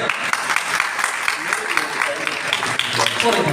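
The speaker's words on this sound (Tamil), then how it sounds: "முதலில் நாத்திக தலைவருக்கு கரகோஷம் கொடுங்க." A crowd claps steadily and densely throughout, filling the hall with sustained applause for the atheist-side leader at a Tamil pattimandram debate on theism versus atheism held at a Vedic Shivagama school.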